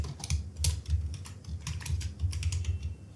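Steady, fast typing on a computer keyboard while writing an email template in Gmail, dense clicking keystrokes close to the microphone, continuous with no talking.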